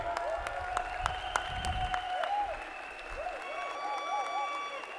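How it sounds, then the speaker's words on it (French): An audience at a large hall event claps continuously in a steady, dense patter, with faint music tones and some crowd noise underneath. "Il faut les acclamer."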